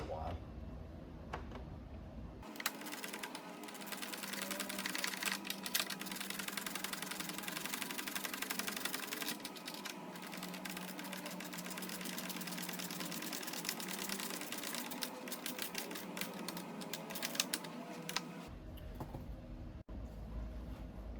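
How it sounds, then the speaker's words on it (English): Rapid, steady ratcheting at fast-forward speed, tightening an amplifier mount during an audio upgrade install on a 2018+ BMW K1600B motorcycle. The clicks blur into a dense, buzzing, machine-like chatter that runs continuously for most of the clip, then stops abruptly. "I'm going to start ratcheting this and probably put you on fast forward"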